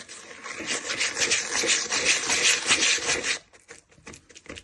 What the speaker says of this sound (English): and just start whisking it.